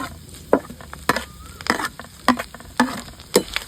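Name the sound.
curry leaves frying and being stirred in a pan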